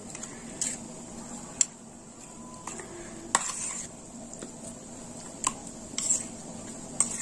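Green mango, ginger, tamarind and green chili are stirred together in a bowl, giving a soft continuous scraping under a faint hiss, with a few sharp clicks of the utensil against the rim.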